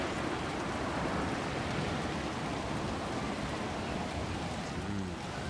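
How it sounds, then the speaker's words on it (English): Heavy rain in the game Another Howl AMEDAMA pours as a dense, constant roar at steady loudness throughout, with no speech over it. "I never felt the rain strike with such fury, as if the raindrops were seeping through my very soul."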